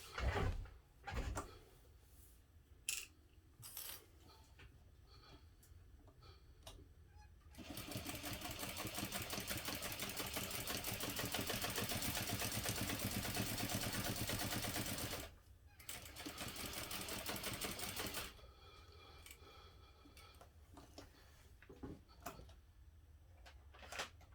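Sewing machine running a long continuous burst while top stitching an eighth-inch seam on a backpack, followed by a shorter second burst. Quieter handling clicks and fabric shuffling come before and after, with no talking.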